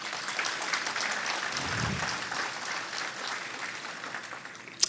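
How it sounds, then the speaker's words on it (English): An audience at a Hmong American Day gathering gives a steady round of applause, a continuous crowd of clapping at moderate distance that holds evenly before a brief sharp knock at the end. "So give them a round of applause,"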